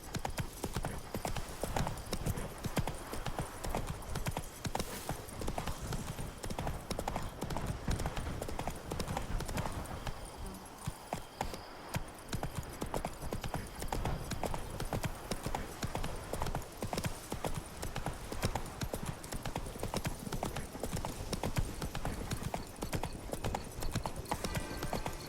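Horse hooves clip-clopping at a steady trot in The Witcher 3, a continuous, close, rhythmic patter of hoofbeats with a brief lull partway through, set against ambient game sound.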